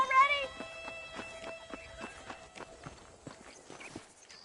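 Horse hooves clip-clopping in Red Dead Redemption on PS5, a steady walking rhythm of fairly soft, close hoofbeats that fade slightly, with a brief tonal sound at the start.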